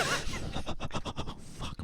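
A person imitates the slow, heavy masked breathing of Michael Myers from the Halloween films, a close, loud, breathy rasp rising and falling in short repeated pulses with no talk over it.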